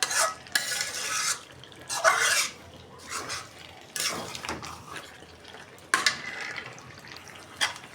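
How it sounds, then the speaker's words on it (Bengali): Fresh meat curry with fried potatoes just added is stirred in a pot, giving repeated scraping bursts of a spoon against metal over a faint sizzle, close up and without talk. "এটা বসাই দিয়া এখন ভাজা আলুগুলা দিয়ে দিব।"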